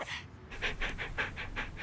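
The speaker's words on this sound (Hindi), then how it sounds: "अरे कितना भौंकेगा" A dog pants rapidly in a comedy film scene, with a steady series of about eight quick, breathy huffs close by; no distinct barks stand out.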